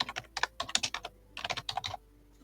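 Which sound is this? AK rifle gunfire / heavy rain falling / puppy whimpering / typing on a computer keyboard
typing on a computer keyboard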